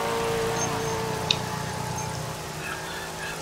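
Rain falls at the Nürburgring Nordschleife in a PS4 GT3 racing game, a steady dense patter and wash blending with a low engine drone.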